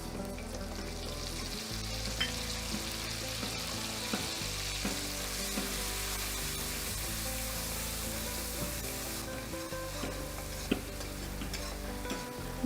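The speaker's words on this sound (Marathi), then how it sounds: "ही पेस्ट तेलावर चांगली अशी परतवून घ्यायची" Onion paste for a Khandeshi onion curry sizzles and fries steadily in hot oil, with soft stirring scrapes, close and continuous, with no voices.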